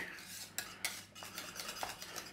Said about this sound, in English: I'm going to stir in some butter and some Parmesan cheese.